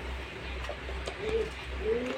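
Pet pigeons kept by a hobbyist coo softly in a couple of brief, low rolling calls over a faint steady background hum, with no talking.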